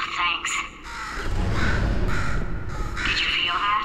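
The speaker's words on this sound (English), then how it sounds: "Could you, murder this bird for me?" A crow in the video game Portal 2 caws a few times in harsh, close calls over a rumbling game-world background with a low ambient hum.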